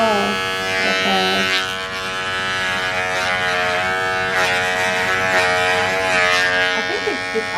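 A small electric clipper trims around a dog's face, giving a steady, high-pitched buzzing hum up close that wavers slightly as it moves. A person talks over it throughout.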